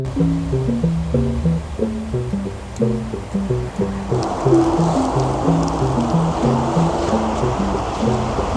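Van wheels are washed with traffic film remover from a bucket of water on a retro S-Cargo van. Watery sloshing and scrubbing begin halfway through, with melodic background music underneath.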